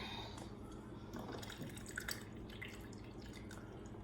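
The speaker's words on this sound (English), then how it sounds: "I love having a hot water spigot." Water runs in a faint, steady trickle from a hot water spigot, with small splashing drips over a low background hum.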